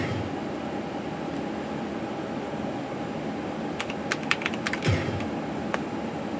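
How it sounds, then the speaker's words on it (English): Quiet keyboard clicks on a computer running AmigaOS emulation, a short burst of scattered keystrokes over a steady background hum. "I was going to type Tanya Harding"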